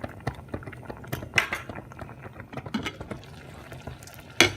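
A spoon stirs beef steak stew with added broccoli in a pot, making a string of light metallic clinks and scrapes with a soft wet slosh underneath.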